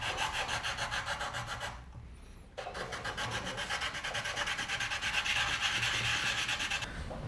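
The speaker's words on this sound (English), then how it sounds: "This is 240 grit, I think, or 220, and I'm just going to sand this until it's flat." The neck pocket of a bass guitar is sanded flat with a 240-grit sandpaper block in quick, rhythmic back-and-forth rasping strokes, close and alone, broken by a short pause before the strokes resume and grow stronger.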